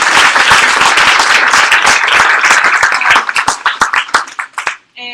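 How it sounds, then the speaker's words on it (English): Loud, dense applause from a gathered audience at a civic hacking team demo event, steady at first and then thinning into scattered individual claps before fading out. "give a round of applause to them"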